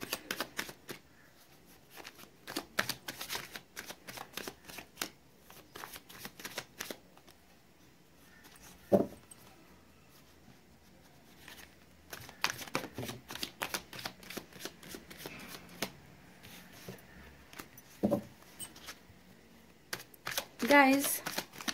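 Tarot cards shuffled by hand in repeated bursts of riffling and flicking, close and moderately loud, with short pauses and a few louder taps between runs.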